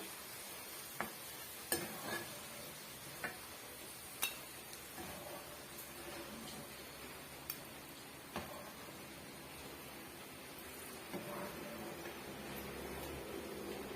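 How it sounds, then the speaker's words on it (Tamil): Cashew nuts roasting in a pan for rava kesari, a faint soft sizzle with occasional light clinks and taps of a spoon against the pan, quiet and close with no voices. "முந்திரி பருப்பு வந்து நல்லாவே வறுபட்டு வந்துடுச்சுக்க"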